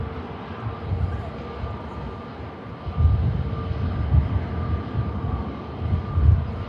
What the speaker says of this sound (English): we do have the EasyJet on finals from Copenhagen